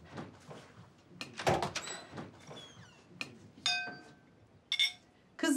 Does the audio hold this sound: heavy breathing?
no